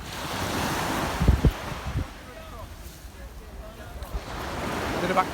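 Waves wash on the shingle beach at Newbiggin seaside in a soft, steady surf with wind buffeting the microphone; a few faint knocks and distant activity sound in the background.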